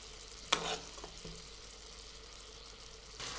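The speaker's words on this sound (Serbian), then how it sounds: "Dok se naši medaljoni od svinjskog filea prže, prelivat ćemo sa masnoćom." Pork fillet medallions frying in a pan, basted with hot fat: a faint steady sizzle, with a sharp spattering burst near the start, a couple of soft clinks, and a later surge.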